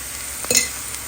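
Chopped red onion with salt sizzles faintly in a pan, and a single brief stir or clink of a utensil against the pan rises in the middle of the short stretch.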